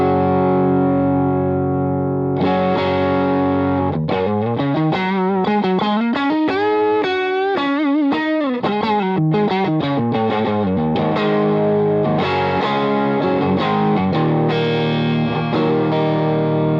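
Distorted electric guitar through a Neural DSP Cory Wong amp plugin with the cabinet simulation switched on and off, playing chords and bending single-note runs with a steady, loud, buzzy tone and no voices.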